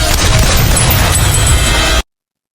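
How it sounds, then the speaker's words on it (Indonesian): Dense, crackling booms and pops of American Independence Day night fireworks burst loudly and continuously for two seconds before cutting off abruptly to silence. "Film diawali pertunjukan kembang api tepat pada malam ulang tahun negara Amerika."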